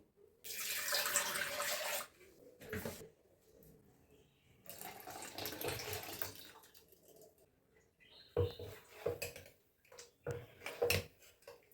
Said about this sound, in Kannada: ಇದಕ್ಕೆ ಒಂಚೂರು ನೀರು ಹಾಕಿ ನಾನು ಅದಕ್ಕೆ ಸೇರಿಸ್ತೀನಿ